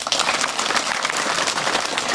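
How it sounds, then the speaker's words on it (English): An audience bursts into brisk, steady clapping, a dense ongoing patter of many hands at moderate loudness. "Again, clap for him."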